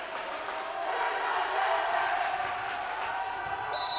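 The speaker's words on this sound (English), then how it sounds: "good to see the Mule Nation cheering section being active here tonight" Mule Nation cheering section at a Fairfield high school girls' volleyball match in a gym, a steady roar of crowd noise and cheering that swells slightly midway and holds throughout.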